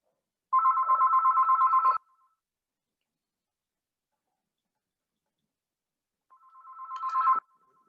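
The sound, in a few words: telephone ringing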